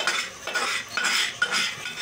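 Ginger and garlic pounded in a pestle and mortar give a rhythmic series of sharp, close metallic knocks, about two per second, with no voices.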